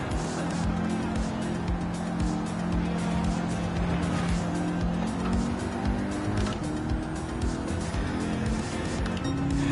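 Race car in the Gran Turismo 7 racing game, its engine roaring steadily as it downshifts into third, with tire squeal and skidding running under the engine throughout.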